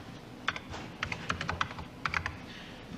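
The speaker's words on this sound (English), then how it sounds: "That's the first time I touched the keyboard." Someone types on a 1984 Apple Macintosh keyboard in short uneven bursts of crisp, close key clicks.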